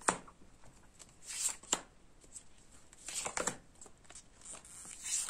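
Tarot cards are handled and laid out on a surface, giving soft papery flicks and slides in a few scattered bursts, quiet and close.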